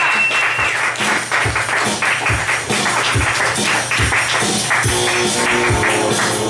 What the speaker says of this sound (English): Please start giving it up very loudly and clapping for Bob Busch.